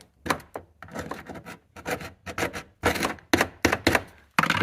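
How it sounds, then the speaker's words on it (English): Sharp repeated tapping and knocking of a hammer on a screwdriver against the plastic ring of a Chevy Cruze fuel tank sender, in uneven bursts, close and fairly loud. "I'm just going to do it the old-fashioned way with a screwdriver and a hammer"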